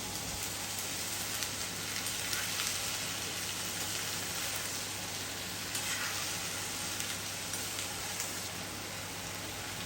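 Hand-broken long beans fry in a pan with ginger garlic paste, a continuous bright, close sizzle like steady rain, with faint occasional clicks and a low hum beneath.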